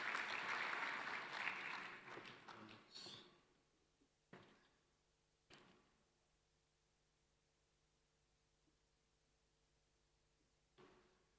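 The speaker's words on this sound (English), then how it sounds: "A big round of applause for Dr." Audience applause at an education sector conference session, a dense burst for about three seconds that quickly dies away, leaving a few isolated claps and faint thumps in a quiet room.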